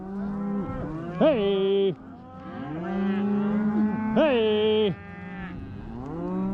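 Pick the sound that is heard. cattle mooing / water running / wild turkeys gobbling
cattle mooing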